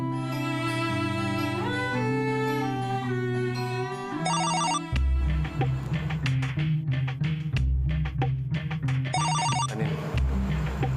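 A mobile phone rings loudly nearby, a repeating melodic ringtone with brief tinkling bell bursts, carrying on without any voices.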